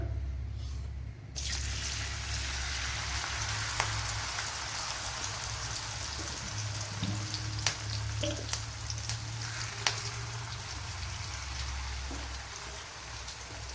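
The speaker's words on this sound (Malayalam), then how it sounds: "ഇപ്പോൾ തോന കറി ലീവ്സ് ഒക്കെ ചേർത്ത് കൊടുത്ത് ഫ്രൈ ചെയ്യണം" Jackfruit pieces and curry leaves fry in hot oil, making a continuous rain-like crackling sizzle with occasional sharper pops. It starts quieter, then settles into a steady, fairly loud hiss.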